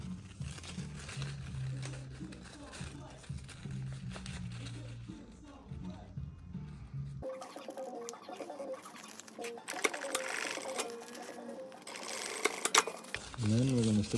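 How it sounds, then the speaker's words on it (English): A sewing machine stitches the two ends of a DIY bikepacking compression bag together with a fast, steady whirring buzz. The buzz then stops, leaving quieter handling and rustling. "then we're going to stitch the two ends together"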